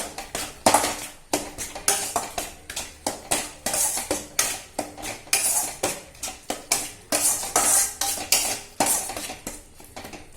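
A utensil scrapes and knocks rhythmically against a pan while stirring tomato chutney, steady repeated strokes close by with no talking.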